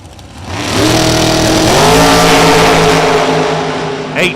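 Drag racing cars launch side by side at Kil-Kare Dragway, their engines swelling into a loud, sustained rising roar that holds high and steady before easing off slightly at the end.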